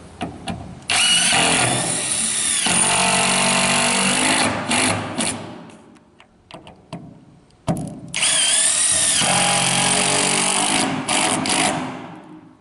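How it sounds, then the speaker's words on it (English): A power drill drives panel screws through OSB into an interior wall: two long, loud, close whirring runs with a quieter pause of rattles between them. "it's a good idea to put a panel screw all the way through to our interior wall"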